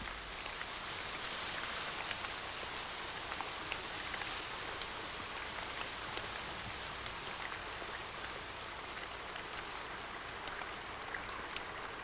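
Heavy tropical rain pours down steadily in a rainforest, a dense continuous hiss of drops on leaves and surfaces, moderately loud and unbroken, with no voices.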